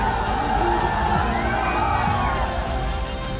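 Dense crowd cheering at a Samajwadi Party rally in Jaunpur, loud and continuous, with shouts and whoops rising above a steady roar of many voices.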